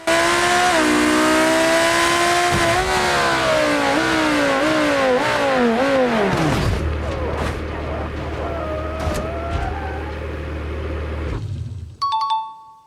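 Lamborghini Huracan supercar in BeamNG Drive, its engine loud and close, revving up through several rising gear pulls before cutting out abruptly, leaving a low idle hum with scattered clicks and a brief chime at the end.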